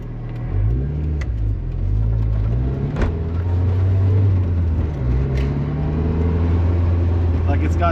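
A 1997 Mazda Miata with a turbocharged engine and a burble-tuned exhaust drives close by, its low engine rumble rising and falling with revs and some popping burble, under a person talking.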